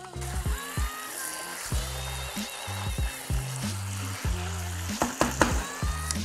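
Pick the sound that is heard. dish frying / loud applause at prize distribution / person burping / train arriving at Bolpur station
dish frying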